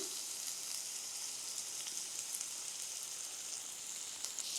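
Eggplant cooks in oil in a pan as homemade sambar powder goes in, giving a faint, steady sizzling hiss throughout with tiny crackles and no talking.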